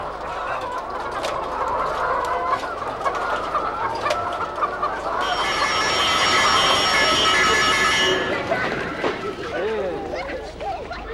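Chickens cluck repeatedly on a village poultry farm, close and fairly loud, with a busy continuous flock texture while someone talks over them.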